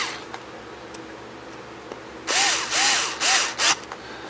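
A power drill drives two screws into a trailer wheel to pull a ring down, starting with a few faint ticks, then several loud, close bursts of whirring motor that rise and fall in pitch as each screw seats.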